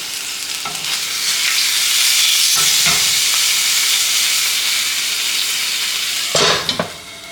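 Food frying in a pan right after a flip, a loud, continuous close-up sizzle with a few sharp bursts of crackle and utensil scrapes.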